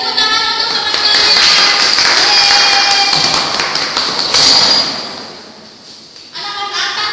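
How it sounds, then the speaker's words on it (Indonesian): A class of fourth-grade children in an Indonesian classroom claps for a classmate, producing a loud, busy patter of hands that dies down midway before a brief return, with some tonal background sound mixed in. "Beri tepuk tangan untuk teman kalian."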